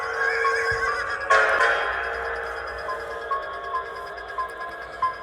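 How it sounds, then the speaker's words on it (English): A frightened horse stops short and neighs loudly just outside a graveyard's gates, a long whinny bursting up near the start and trailing off, followed by a few shorter snorts and light hoof thuds. "the horse stopped and neighed."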